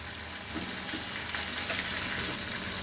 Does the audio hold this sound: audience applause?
no